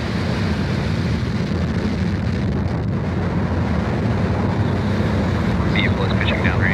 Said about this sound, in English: engines full power, and lift off of Viasat 3, go Viasat, go Falcon Heavy